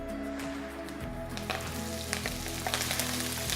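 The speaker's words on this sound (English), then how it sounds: "oil's hot. And I'm literally going to chuck in most of my veg to begin with." Vegetables thrown into hot oil for a spicy bacon chilli stir fry: quieter background at first, then the sizzle surges after about a second and keeps crackling and spitting up close, with no voices.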